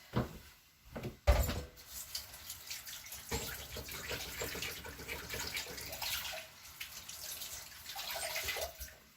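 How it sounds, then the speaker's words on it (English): Hands are washed under a running kitchen tap, a steady close splash of water with a sharp knock near the start and shifting rinsing sounds throughout. "So let me just wash my hands."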